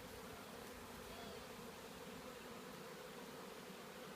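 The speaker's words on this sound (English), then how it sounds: "Looks like a lot of fanning going on" Honeybees fan at the entrance of a newly installed hive, a faint, steady, continuous buzz with no voices.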